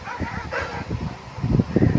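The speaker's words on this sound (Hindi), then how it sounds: "डॉग्स जो है कुत्ते के ऊपर भौंक रहे हैं" Computer-generated dogs bark at another dog in a quick, close burst of yips and barks that grows louder toward the end.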